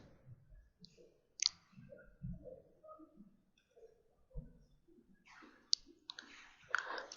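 A computer mouse clicks quietly while a site is being set up in business software, giving a few sparse, irregular clicks close by in a mostly quiet room.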